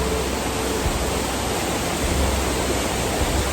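Pecker Falls on the Ingleton Waterfalls Trail, a steady broadband rush of falling water heard close and loud, constant and unbroken with no voices.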